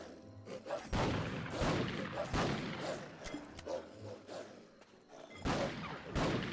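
Repeated gunshots while hunting in Black Desert, several sharp loud cracks spaced irregularly over steady background game sound, with a pair of shots near the end.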